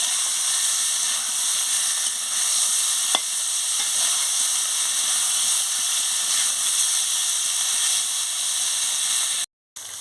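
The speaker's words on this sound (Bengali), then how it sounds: "এইভাবে ডাঁটাটাকে সিদ্ধ করে ভেজে নেবেন" Moringa drumstick stems, boiled then seasoned with chilli powder, sugar, salt and turmeric, frying in a pan with a steady close sizzle and hiss, plus an occasional faint scrape of stirring; a brief sharp click near the end.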